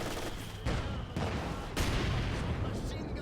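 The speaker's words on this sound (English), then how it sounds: "Mortar now hits the top of that wall." Mortar shells striking a wall during a Company of Heroes 2 match, a World War II strategy game: several loud, heavy blasts and bursts of gunfire in quick succession over a constant roar of battle, with commentary faintly underneath.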